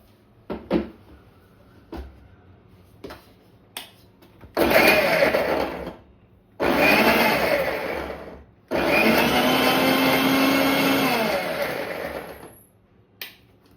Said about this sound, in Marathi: आपल्याला मिक्सर चालू करायचं